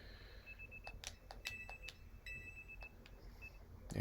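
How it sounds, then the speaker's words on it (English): An alarm clock sounds a series of short, faint electronic beeps in an irregular pattern over a quiet room background, ending with a louder thump. "that's my alarm every time I have to go to work"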